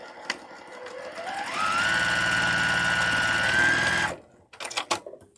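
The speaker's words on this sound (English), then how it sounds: "Sew your 4 segments together." A sewing machine stitches quilt block segments together, starting slowly and ramping up into a steady, close, loud run of about two and a half seconds before stopping abruptly, followed by a few handling clicks.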